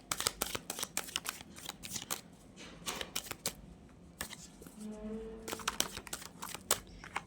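Tarot deck shuffled close up, with bursts of quick, crisp card riffles and slaps in uneven clusters, pausing briefly midway before another flurry; a faint tonal hum appears near the end.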